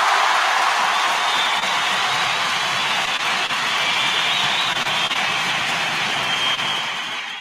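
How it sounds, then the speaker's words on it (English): A steady, dense crowd roar fills an NFL Draft venue after the Detroit Lions' pick, loud and sustained throughout before easing slightly at the end. "The crowd went wild."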